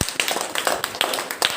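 A classroom of schoolchildren claps for a quiz winner in a short, brisk burst of uneven hand claps with a few louder, sharper slaps standing out.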